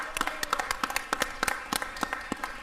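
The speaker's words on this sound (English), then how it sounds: "Round of applause for these gentlemen." An audience at a Los Angeles city council meeting claps in a brief round of applause, scattered individual hand claps forming an uneven, moderately distant patter.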